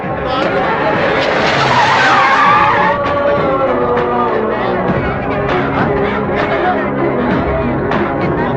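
A car speeds and skids hard, its tyres squealing loudly and continuously over engine roar, close and intense, with scattered voices and chatter in the background of a mass action scene.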